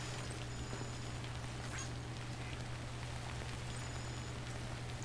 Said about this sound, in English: Can I not save because it's raining?